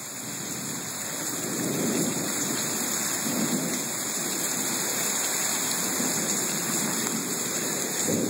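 A thunderstorm pours heavy rain in a steady, loud hiss, with low rolling rumbles of thunder swelling beneath it at intervals and no voices heard.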